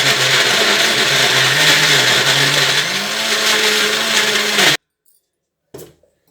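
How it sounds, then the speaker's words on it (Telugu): A mixer grinder whirs loudly and continuously as it grinds gongura pachadi. Its pitch shifts partway through, then it cuts off abruptly, followed by silence and a single brief clunk. "ఇలా మిక్సీ పట్టుకోవాలి."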